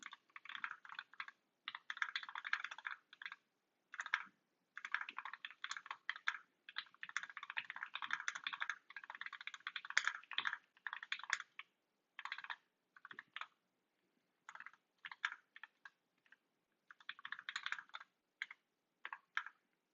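Keys clatter on a freshly built Zlant keyboard in bursts of quick, close tapping, broken by short pauses of near silence, with no talking.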